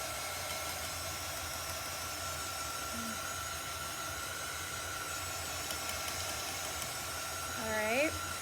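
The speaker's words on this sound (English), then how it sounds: "I am going to use this little heat tool." A small handheld heat tool runs continuously at close range while drying a chalk paste transfer, a steady whirring hum with a faint whine throughout, with a voice talking over it.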